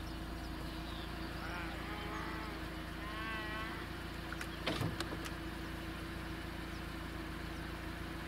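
Cattle low and moo in a village pasture as the herd is brought home, a few calls over steady engine idle from a vehicle driving through grass, with a brief louder knock near the end.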